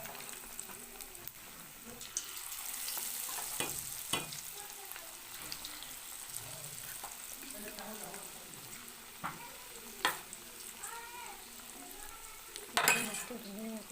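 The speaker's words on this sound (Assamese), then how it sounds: "এয়া মাছটো ধুনীয়াকৈ ফ্ৰাই হৈ আছে" Pieces of marinated fish deep frying in hot refined oil in a home kitchen, a steady crackling sizzle with occasional sharper pops and utensil clinks throughout, close and continuous.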